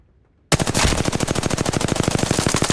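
A rifle in a video game fires full-auto during a recoil test: after half a second of silence comes one loud, rapid, steady burst of gunshots that lasts to the end.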